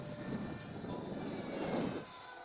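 An E-flite F-15 RC electric ducted fan jet flying outdoors, giving a steady, sustained whooshing whine with broad airy hiss that swells slightly then eases, moderately distant and continuous with no talk.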